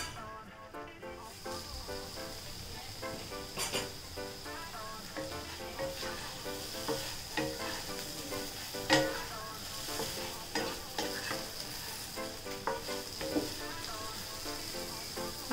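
Potatoes fry and are stirred in a pan, giving a steady, close sizzle with scattered scraping and clinking from the stirring throughout.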